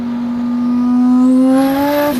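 A fast exotic car accelerates hard and close, its engine note climbing steadily in pitch for about two seconds before a sudden cut as the revs drop at the end.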